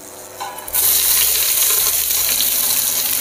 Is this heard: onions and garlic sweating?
yes